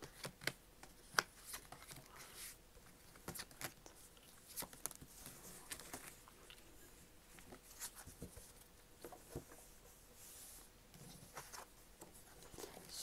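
Tarot cards are shuffled and drawn by hand in a quiet room, a faint continuous patter of riffling and sliding card stock with small taps and flicks, close and soft with no talk.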